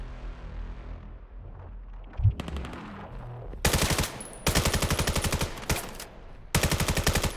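Rapid automatic gunfire in the VR shooter Vail VR during a competitive match, with loud repeated bursts and one sharp blast early on, the shots separated by brief pauses.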